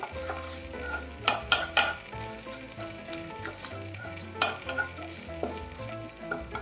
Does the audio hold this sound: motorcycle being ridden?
no